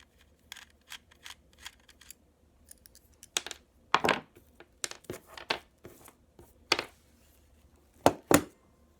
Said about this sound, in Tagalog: tumutunog yung mga spring